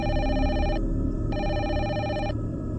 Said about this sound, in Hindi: रिसेप्शन के टेलीकॉम में एक फ़ोन आता है